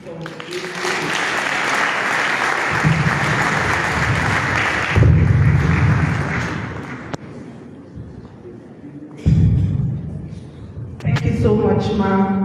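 Sustained loud applause from an audience at a Law Week magistrate court event, honouring the DCR superintendent, continuing steadily across the clip with a few louder surges and a voice speaking over it.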